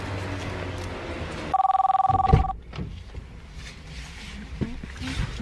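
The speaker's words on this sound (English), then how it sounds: "Who just called my phone?" A phone rings with an incoming call, a steady repeating electronic ring pattern lasting about a second, close and loud, with muffled handling noise and rustling around it.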